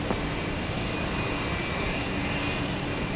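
Airliner taking off from runway 15 left at Houston Intercontinental, a loud, steady, broad engine roar that fills the whole clip with no talking.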